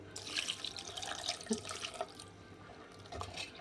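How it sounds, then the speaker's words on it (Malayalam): Water is added to a pot of Kerala sardine curry made with mango, ground coconut, tamarind and tomato, heard as a soft, close trickle and splashing pour with faint drips, alone and quiet. "വെള്ളം ചേർക്കാം"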